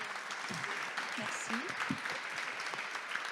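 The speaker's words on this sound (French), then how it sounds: "vraiment les applaudir très fort déjà" Audience applause for two speakers at a French history talk on trade and objects along the Asian route, moderate clapping under a short spoken thanks, with a voice rising briefly over it.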